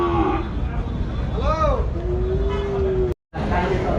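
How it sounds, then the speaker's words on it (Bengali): Cattle at a busy Rajshahi city cattle market, where cows and buffalo are traded, give a short moo and then a long, drawn-out low moo over a steady crowd and traffic din. "এই পারে তিনটা গরু আছে এই গরুটা অনেক সুন্দর গরু"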